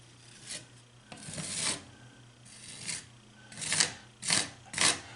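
A caulk tool scraped against a piece of cardboard to wipe off excess caulk during a drywall hole repair, several short rasping drags in an irregular rhythm, close and clear.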